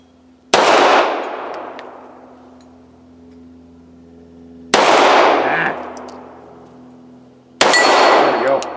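Three loud gunshots from a Girsan Regard MC pistol, a Beretta 92FS clone, fired one at a time at an outdoor range, each sharp crack followed by a ringing clang off steel targets that decays slowly.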